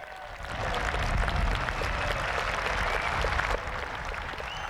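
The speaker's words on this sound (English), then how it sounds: "His well-deserved 50 came up shortly afterwards to the generous applause of the good crowd" Crowd at a 1989 cricket match applauding a batsman reaching fifty, a broad, steady patter of clapping at moderate distance that eases slightly toward the end, with no talk.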